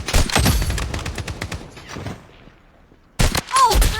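Rapid bursts of gunfire from the online shooter BloodStrike, loud and close, rattling for about two seconds before fading to near silence, then erupting again with another sharp volley and a short synthetic whine.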